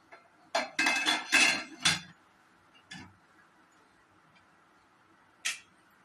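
A metal lid is lifted off a pan of biscuit cake after ten minutes of cooking, giving a quick run of loud clanks and scrapes, then a lone clank and a final sharp metallic tap, with no speech.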